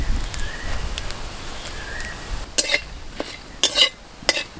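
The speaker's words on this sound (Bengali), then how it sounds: "ফোড়নটা ভাজা হয়ে গেছে," Bay leaf, dried chillies and cumin frying in hot oil in a kadai, a soft crackle under sharp spoon clinks and scrapes against the pan.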